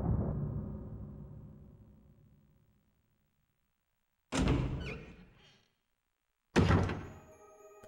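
A heavy armor door in the Resident Evil Archive (2008) video game: a low rumbling creak fades out, then two loud, close metallic thuds and clanks follow after a short silence.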